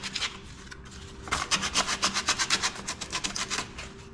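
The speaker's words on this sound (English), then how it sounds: "So pretty much take it, sand the area." A small patch of paint is sanded off a surface by hand. Close, rhythmic scratchy strokes go back and forth, growing quicker and more even after the first second.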